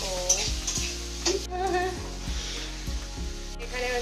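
Country chicken curry sizzles and fries in a pan in a home kitchen, a steady close hiss with occasional stirring clinks and a low repeating hum beneath.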